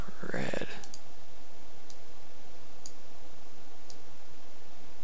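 Computer mouse clicks: a few faint, sparse, evenly spaced ticks over a quiet background, with a short burst of talking at the start.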